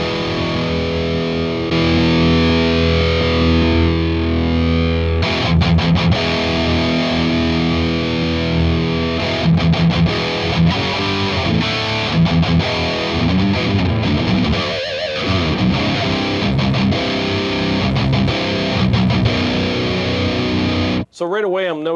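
Electric guitar played through the classic channel of a BluGuitar AMP1 Iridium amp with the overdrive pedal and internal boost off, giving a full, sustained driven tone of chords and riffs that carries steadily for about twenty seconds, then cuts off abruptly.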